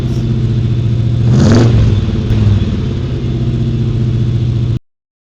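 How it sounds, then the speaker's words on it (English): Hot rod engine at an outdoor classic car show, a close rumbling idle that swells into a brief rev then settles back to a steady throb before cutting off abruptly. "Let's rev it up in them hot rods."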